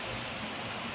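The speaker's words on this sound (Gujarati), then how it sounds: "ધોધમાર વરસાદ વરહી રહ્યો છે" Heavy first-of-season rain pours down in a village, a dense, even hiss of falling water with no voices over it.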